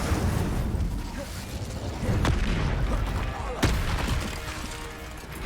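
Hogwarts Legacy spell combat with an Incendio fire spell cast: a constant loud roaring rumble with two sharp cracking bursts partway through, and a voice speaking over it.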